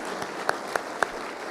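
A church congregation applauding, a broad wash of clapping with three or four sharper claps standing out at an even pace, fairly loud and steady throughout.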